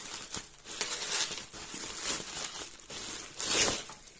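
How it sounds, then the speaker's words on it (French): Plastic bubble wrap crinkling and rustling as it is handled, a steady scratchy crackle with a few louder crumpling bursts, close and fairly quiet. "c'est protégé dans du papier bulle."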